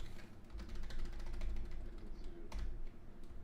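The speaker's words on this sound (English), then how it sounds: "Can you see me typing on your screen?" Soft, rapid clicking of a computer keyboard during a web development coding session, steady and close over a low room hum.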